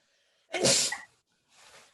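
A single loud, sharp sneeze up close, followed by a softer breathy exhale.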